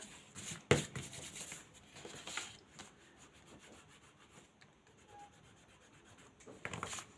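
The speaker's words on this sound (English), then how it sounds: "I'm just using an eraser." Pencil eraser rubbing across a paper card, producing soft, close scratchy strokes in irregular bursts with a few sharper scuffs, quiet throughout and without talk.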